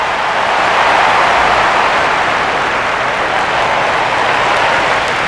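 Stadium crowd of over 39,000 in the baseball video game MLB 12: The Show, a dense, loud, continuous roar of cheering and noise with no breaks.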